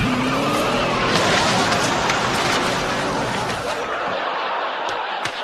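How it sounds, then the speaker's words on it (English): A car driven at full speed through a living room wall, a loud rumbling crash and clatter of debris that settles into scattered thuds, with faint laughter underneath. "You jump in the car, put your pedal to the metal, and hold on, Barbie!"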